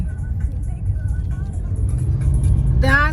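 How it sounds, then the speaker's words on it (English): Road traffic on a London street, a low continuous rumble of cars and engines passing close by, growing slightly louder toward the end, with a voice talking over it. "I was wondering why there was so much traffic on my way to Pencil's house"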